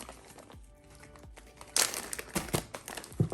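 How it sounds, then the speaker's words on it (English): Tape is peeled off crystals such as obsidian and clear quartz in a series of close, sharp crinkling rips that grow louder and more frequent toward the end, with no talking. "Taking the tape off."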